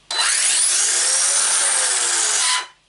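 A Kyosho Scorpion 6S radio-controlled car motor runs with a loud, high-pitched whine, steady for about two and a half seconds, then cuts off abruptly.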